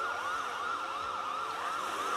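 A police car siren wails in a video game, a continuous rising-and-falling electronic tone repeating steadily, loud and close behind the player, with no talking.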